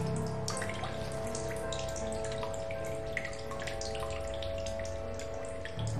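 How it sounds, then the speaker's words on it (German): Water running into a bottle at a fountain in the video game The Solus Project, a soft continuous trickle with faint drips, quiet and steady over ambient game hum. "Und da kann ich meine Wasserflasche auffüllen"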